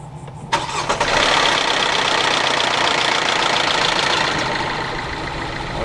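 A Kia Soul engine after a camshaft and crankshaft sensor replacement cranks and catches after a short quiet moment, then settles into a steady, loud, close idle with a slightly rough, knocking edge and no talk.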